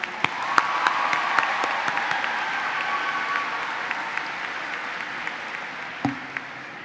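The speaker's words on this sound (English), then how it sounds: "Please join me in a round of applause for these 9 individuals." Audience applause at a secondary school graduation ceremony, a steady wash of many hands clapping in a large hall, with a few sharper claps standing out; no talk over it.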